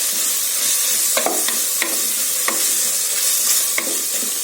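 Tomatoes and two whole green chillies sizzle in a pan while being sautéed for vegetable biryani, a steady loud frying hiss broken by sharp scrapes and clicks of a spoon stirring, with no voices.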